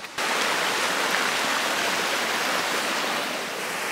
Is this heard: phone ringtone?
no